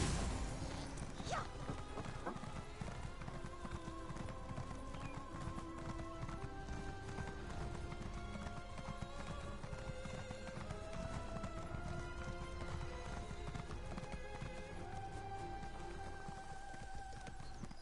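Steady clip-clop of hooves at a quick, even rhythm, a horse galloping in the video game Elder Scrolls Online under a background music score.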